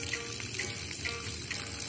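A cat drinks clean running water from a garden hose; a close, steady trickle and splash of flowing water continues throughout.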